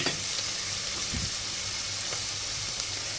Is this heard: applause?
no